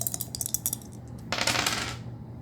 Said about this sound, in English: Okay, shall now roll the dice.